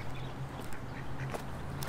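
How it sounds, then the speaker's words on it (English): A duck quacks faintly near a fishing spot by the water, a few soft quacks barely rising above steady outdoor background noise. "Damn duck."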